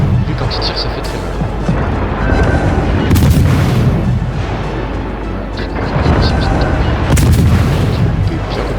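Warship main guns fire in World of Warships in a few loud, booming salvos spaced several seconds apart over steady engine and sea rumble, with someone talking throughout.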